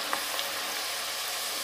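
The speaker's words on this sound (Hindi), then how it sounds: "इसको लगातार इस तरीके से चलाते रहेंगे जिससे कि दाल चारों तरफ से बराबर से फ्राई हो।" Dal lentils frying in hot oil for a crunchy namkeen snack, a steady dense sizzle throughout with faint stirring touches, close and alone without any talk.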